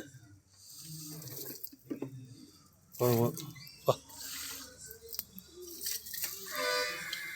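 Water is poured and splashes while a pigeon cage is washed, with running and dripping sounds that swell midway and near the end; voices talk quietly in the background.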